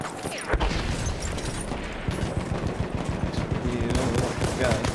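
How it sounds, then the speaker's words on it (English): Rapid machine gun bursts crackle in a Battlefield 1 battle, mixed with other gunfire and battlefield noise at fairly close range. "Machine gun over there!"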